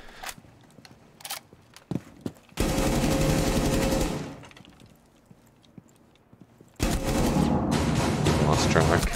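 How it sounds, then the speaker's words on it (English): Gunfire from Rainbow Six Siege, fired down through a floor by the IQ operator: two loud sustained bursts of rapid shots separated by a quieter gap, with a few sharp clicks and sounds at the start. "IQ is shooting through the floor."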